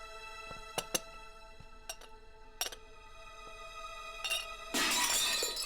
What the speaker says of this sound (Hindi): वो बस कप टूट गया गलती से